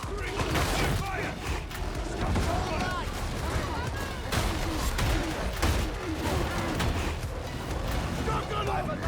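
Gunfire in Warhammer 40,000: Darktide, sustained overlapping shots and bursts of fire in dense, loud combat, with voices shouting throughout.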